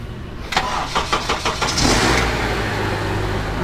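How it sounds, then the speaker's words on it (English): Honda car engine cranking with a few rapid starter pulses, catching and then settling into a steady running idle, close and fairly loud. "let the car run a little bit"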